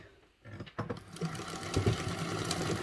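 A sewing machine top stitching fabric with a 3/8 seam allowance for a bag, starting after a brief pause and running as a steady close mechanical whir to the end.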